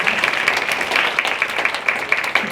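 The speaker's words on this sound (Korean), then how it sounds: "유준수대 교구장님께 다시 한번 큰 박수 부탁드리겠습니다" Audience applause after a speaker's address at a church youth gathering, a steady wash of clapping from a crowd lasting throughout, moderately loud with no voices over it.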